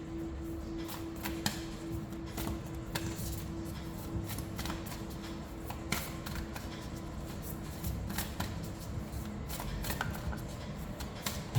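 Moonology oracle card deck being shuffled, a steady run of soft papery riffles and flicks with sharper snaps scattered throughout, close and quiet against a low hum.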